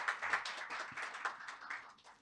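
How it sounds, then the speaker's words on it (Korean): Applause at a medical policy symposium panel discussion, a small scattering of hand claps in uneven bursts, fairly close but quiet, tapering off toward the end. "큰 박수 부탁드립니다."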